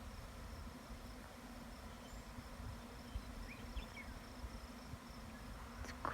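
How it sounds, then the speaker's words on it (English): A steady, close buzz of many bees flying around, droning continuously, with faint higher chirps and a few small knocks. "They're flying everywhere."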